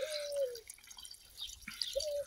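Water from an animal waterer drips and trickles onto a small potted plant, with a few brief splashes and pauses between them, close and fairly quiet, with no talk.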